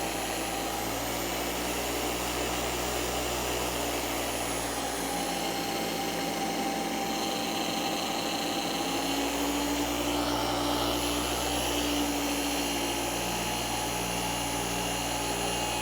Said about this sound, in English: Correction speed, which is moving the polisher an inch every second or two.